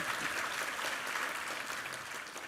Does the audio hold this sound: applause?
yes